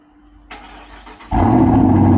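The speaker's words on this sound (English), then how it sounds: "Let's get the cold start going." A 2023 Dodge Charger R/T engine cold start: it cranks briefly, then catches and roars to life, settling into a loud, steady rumble close by.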